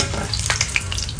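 Hot oil bubbling and sizzling in a pan while frying grapes, cashews and onions for Kerala ghee rice, a steady close crackle with scattered sharper pops throughout.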